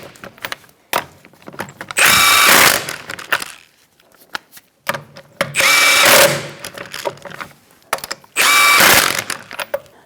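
A power tool drives wheel lug nuts on a Mazda 3 in three loud rattling bursts, each lasting under a second, separated by quieter clicks and handling noises.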